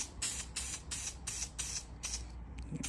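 Short, rhythmic bursts of aerosol spray paint hiss repeatedly onto car seats, about seven quick sprays close by with brief pauses between them.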